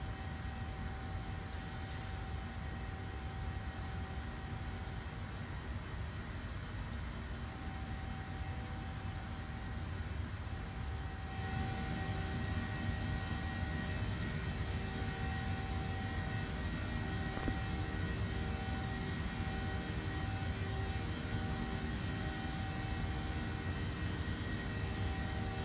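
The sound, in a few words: Boeing 737-800 engines in Microsoft Flight Simulator video game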